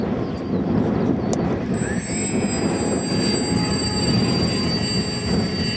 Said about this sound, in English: Surprising amount of wind today, to be totally honest.